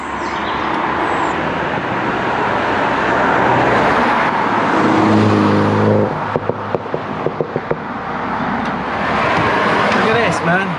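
A Ferrari engine running nearly out of fuel sputters, its steady drone rising briefly before a run of sharp, irregular misfire pops near the end.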